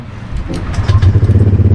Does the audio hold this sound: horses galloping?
no